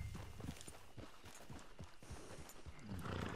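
Horse hooves clip-clop at a walking pace in Red Dead Redemption 2, a steady rhythm of soft thuds with a faint whinny near the end, quiet and close.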